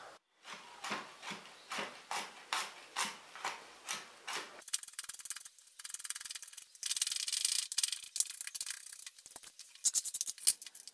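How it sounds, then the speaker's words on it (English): Garlic cloves being peeled and then minced with a knife, first a run of about ten rhythmic rubbing scrapes, then quicker, brighter chopping taps, all close and quiet. "I get to do the boring job of peeling and mincing the garlic cloves."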